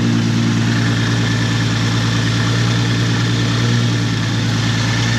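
A Toyota MK4 Supra fitted with a 1200+ horsepower turbo setup, its intercooler pipe disconnected, idles with a deep, loud and steady rumble that holds unchanged from start to end.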